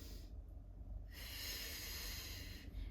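Slow, audible breaths drawn in and let out during a Pilates exercise, close and fairly faint, with no talking.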